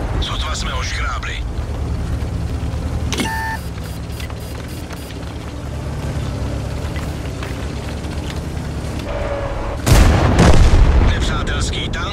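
Tank cannon fire and explosions in a tank video game featuring a T-34/100, with a heavy booming blast near the end over continuous rumbling engine noise, sharp transient bursts, and speech throughout.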